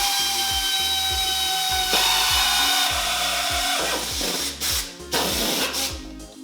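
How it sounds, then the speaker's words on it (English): A steady high-pitched drill whine, loud and close, as a pilot bit drills a hole in metal without cutting fluid, with repeated low rhythmic thumps underneath, bit grinding and chattering against metal toward the end. "I'm going to start with a pilot bit."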